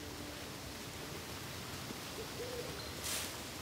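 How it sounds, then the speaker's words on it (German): An owl hoots faintly a few times in the game Endling, soft calls sitting under a constant hiss of wind or rushing water. "Und da höre ich schon wieder so eine böse Eule"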